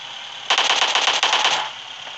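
Automatic gunfire in the mobile battle royale game PUBG Mobile, a single rapid burst of about a second of closely spaced shots, loud and alone over a quiet background.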